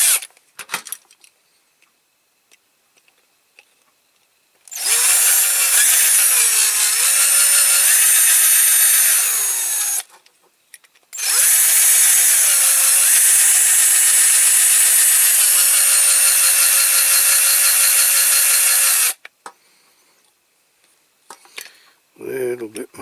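A power drill with dull bits whines loudly as it bores into a Corgi Major die-cast toy car transporter, running in two long sustained bursts separated by a brief pause, its motor pitch shifting under load.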